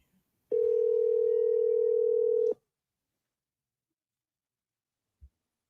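A single steady ringback tone on a call placed to a property seller sounds for about two seconds and then cuts off, followed by near silence and one faint thump.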